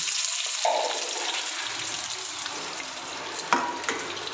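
Jute leaf fritters in a nigella-seeded batter fry in hot oil with a soft, steady sizzle and bubbling, broken by a brief clatter partway through. No one speaks.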